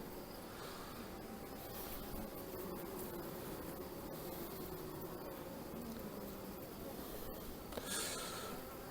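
Honeybees buzz around an open beehive: a quiet, dense, continuous hum of many insects, steady throughout, with a faint clatter near the end.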